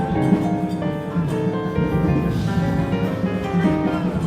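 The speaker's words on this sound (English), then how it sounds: "So this is our big, giant 9-foot piano," A Yamaha CFX 9-foot concert grand piano played continuously, rich sustained chords and melody ringing out close and clear, no voices.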